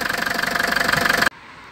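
The engine of an old car, 19 years old with 120,000 km, idles while warming up, giving a steady, loud, rhythmic pulsing chug that cuts off abruptly near the end.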